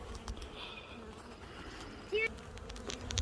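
Honey bees buzz softly around an open hive during an outdoor inspection, a faint, steady insect drone with a brief louder pass near the end.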